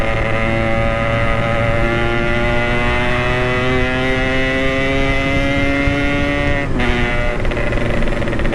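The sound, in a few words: Yamaha RX King motorcycle engine and exhaust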